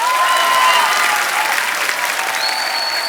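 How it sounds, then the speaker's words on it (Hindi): Loud, sustained applause from a comedy-show audience at a televised mushaira, dense clapping filling the whole stretch at a steady level. "जोरदार तालियां हो जाए।"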